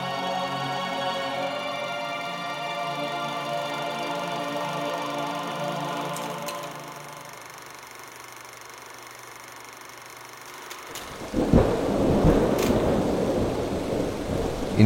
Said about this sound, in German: In grauen Schnüren hämmert der Regen auf die Planwagen